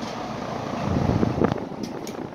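Electric fans in a Kmart store fan display push out a steady, breathy rush of wind that swells louder through the middle before easing slightly, with no voices.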